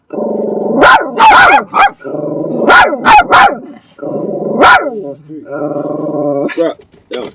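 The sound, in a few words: dogs barking and growling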